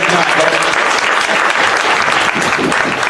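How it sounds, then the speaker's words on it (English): A crowd at a horse sale auction gives a round of applause, dense continuous clapping that stays loud and even from start to finish. "Give that young man a round of applause."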